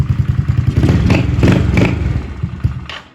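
A modified motorcycle with aftermarket turn signals revs repeatedly up close, its loud engine surging in several bursts over a steady idle with some clatter, then easing off toward the end.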